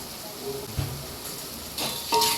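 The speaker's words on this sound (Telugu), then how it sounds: "పచ్చివాసన పోయేంత వరకు ఫ్రై చేసుకోవాలి" Ginger garlic paste sizzles as it fries in a pan for a village-style crab curry, a steady frying hiss with occasional stirring scrapes that swell louder near the end.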